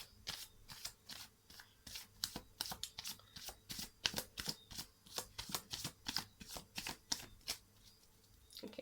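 Tarot cards are shuffled in a quick, regular rhythm of crisp riffling bursts, close up, around twenty in a row.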